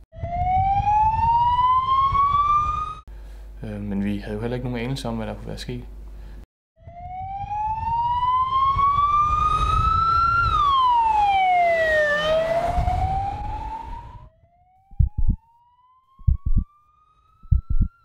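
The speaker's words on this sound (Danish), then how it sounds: "der kommer 3 ambulancer, eller i hvert fald 3 udrykningskøretøjer ret hurtigt efter hinanden" Sirens of three ambulances or emergency vehicles pass in quick succession near a hospital in Odense, loud and rising and falling in pitch, with wailing tones stopping and starting over about fifteen seconds, followed by a person speaking.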